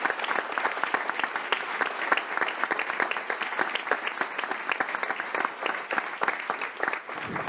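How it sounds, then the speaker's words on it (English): An audience at the Monaco Ocean Week conference claps, a dense, continuous wash of applause that stays loud and steady throughout without any speech. "Let's give them a huge round of applause"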